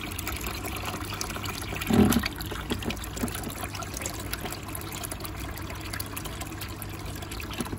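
Aquarium water dumped out while the air pump keeps running, a steady broadband wash of flowing, trickling water with one brief louder splash near the middle.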